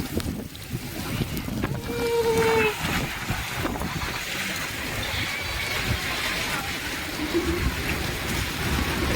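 Heavy rain hisses steadily with gusty wind noise buffeting the microphone, and a few faint tonal sounds drift in near the start.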